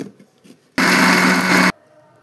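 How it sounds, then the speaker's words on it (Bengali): A kitchen mixer grinder whirs loudly for about a second as it grinds homemade glucose powder with black salt, starting and stopping abruptly against a quiet room. "এবার আমি এটাকে মিক্সিতে দিয়ে গুঁড়িয়ে নেব"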